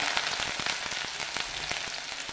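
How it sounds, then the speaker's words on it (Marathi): Onion frying in hot oil with mustard seeds and cumin for a village-style kardi greens dish, a steady close sizzle with fine crackling pops throughout. "कांदा व्यवस्थित तेलामध्ये भाजून घ्यायचा तेलामध्ये असा मस्त कांदा भाजून घ्यायचा"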